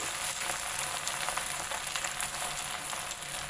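Fresh washed gongura leaves dropped bit by bit into a hot pan, a steady close hiss of frying and sizzling that runs without break.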